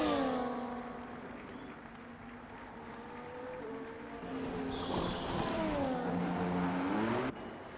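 Ferrari race car engine in a racing video game, a sustained whine sweeping up and down through gear changes at steady volume, with a brief burst of extra noise midway and a sharp cut near the end.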